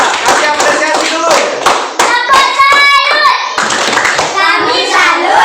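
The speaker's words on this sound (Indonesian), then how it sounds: "Jadi tepuk tangan dulu buat kelompok Michael Faraday" Classroom clapping for a student group, a quick burst of hand claps and rhythmic taps mixed with children's excited voices and chanting, loud and close.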